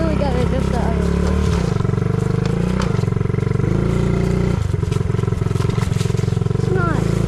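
A friend's mini bike engine idles loudly and close up, a steady low rumble with slightly uneven pulses and occasional small revs, and a person talks over it.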